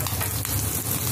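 Green chilies added to hot oil with cumin seeds sizzle loudly in a pan for a brief, steady crackling burst.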